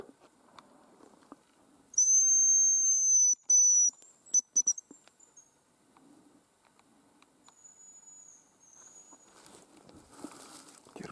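Hazel grouse whistle from tall trees in the forest: a loud, thin, high-pitched whistle held for a few seconds, then several short broken notes, and later a fainter, more distant whistle amid quiet rustling.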